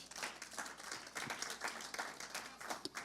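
A congregation in a French-speaking church claps together, a steady dense applause at low volume continuing throughout with a few faint voices mixed in.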